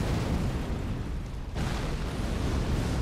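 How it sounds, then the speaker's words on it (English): An explosion in the video game Elden Ring Shadow of the Erdtree roars loud and close, a dense rumbling blast that dips briefly midway and then surges back to fill the rest. "because the explosion, I was close"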